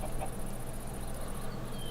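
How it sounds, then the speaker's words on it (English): Farm chickens cluck softly in the Minecraft video game, a few faint clucks over a steady game background tone. "We have chicken."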